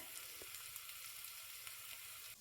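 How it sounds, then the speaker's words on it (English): A quiet, steady sizzle of spices and ginger frying in a hot pan, crackling softly and continuously with no talking. "I'm just letting that sizzle away for a minute."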